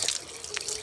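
Water runs from a tap while a gas stove part is washed, giving a short, faint trickle and splash with a few brighter drip accents and no voices.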